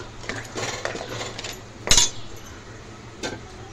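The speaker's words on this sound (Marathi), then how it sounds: "हे पण चांगलं मिक्स करून घेऊया।" A spoon stirring crab curry masala in a cooking pot gives scattered metallic scrapes and one sharp clink, fairly soft against a low steady background hum.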